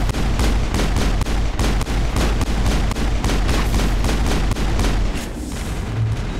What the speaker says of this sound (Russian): взрываем грену